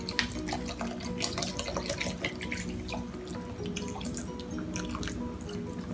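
Water runs from a kitchen tap while shrimp cocktail is being made, a steady hissing splash into a sink with scattered drips, close and continuous, with no talk.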